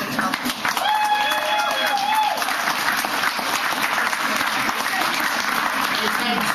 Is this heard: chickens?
no